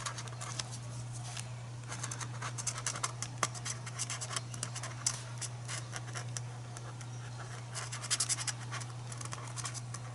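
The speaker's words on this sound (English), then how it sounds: "then we'll use some black pen to finish up where we're drawing her" A black pen scratches steadily across paper while a figure of a girl is drawn, close and continuous with irregular strokes and brief louder bursts, over a constant low hum and no talking.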